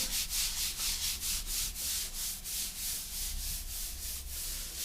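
A float or sponge rubs back and forth over tile grout joints in a steady rhythm of repeated close scrubbing strokes with no voices.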